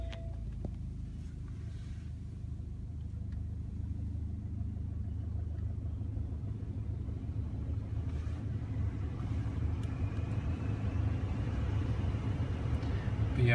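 A 2012 BMW 520d M Sport with automatic gearbox, started by push button, settles into a steady low diesel idle rumble. The rumble is close, even and unbroken, with no other sounds over it.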